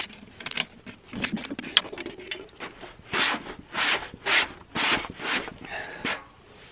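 Snare drum tension rods being tightened with a drum key while the head is changed and seated, giving a series of short scraping, ratcheting bursts in an uneven rhythm, close and fairly quiet, with no talk.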